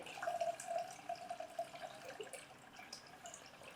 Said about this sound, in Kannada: ಒಂದು ಸೋಸುವ ಜಾಲರಿ ತಗೊಂಡು ಈ ಥರ ಸೋಸ್ಕೊಳ್ಳಿ